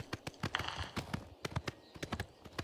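Horse hooves clip-clopping at a steady trotting rhythm while riding in Oblivion Remastered, crisp close hoofbeats repeating quickly over faint outdoor ambience.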